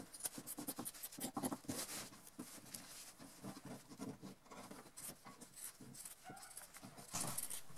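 Scissors snipping through fabric while cutting out a face mask prototype: steady, close crisp scratchy cuts in an irregular rhythm, continuing throughout with no voice.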